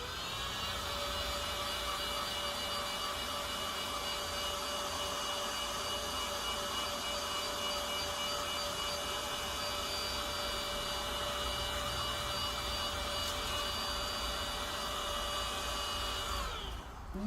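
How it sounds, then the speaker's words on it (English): A handheld hairdryer blows steadily and close on fabric treated with decolourant paste, a continuous whirring rush that holds even for the whole stretch before cutting off at the end. "Using the hairdryer, we'll just quick give it a blast."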